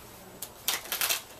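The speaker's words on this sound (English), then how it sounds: "Sometimes some people do overhand shuffles like this" Playing cards riffled in an overhand shuffle give a few quick, crisp fluttering bursts close by, separated by brief pauses.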